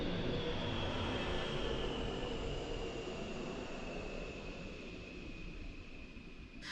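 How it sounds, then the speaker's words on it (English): An airplane passes overhead outdoors as a steady broad roar with a faint high whine, holding level and then easing slightly toward the end, with no voices over it. "there's a plane."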